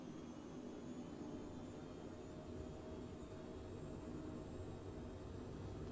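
Phenom 100 jet engines in Flight Simulator 2020 hold a steady, even roar at takeoff thrust, a constant broadband whoosh with low rumble and no talk over it.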